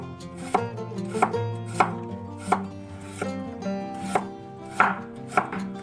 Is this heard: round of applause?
no